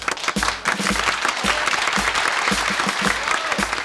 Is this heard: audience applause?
yes